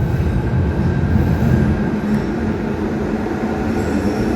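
A Genoa metro train rumbles steadily on the rails, a loud continuous roar with faint squealing and clatter from the wheels.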